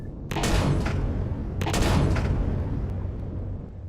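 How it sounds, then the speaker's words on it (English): Plasma cannons in the space survival game Empyrion Galactic Survival fire in two heavy volleys, four guns at once, each a loud burst of overlapping blasts with a long rumbling decay; no talk. "With 4 plasma cannons all at once shooting in one volley, it takes out quite a bit of stuff."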